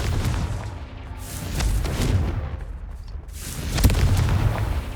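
Repeated Confringo fire-spell blasts from Hogwarts Legacy, heavy booming explosions rolling in waves with a sharp burst near the end, loud and close with no talking.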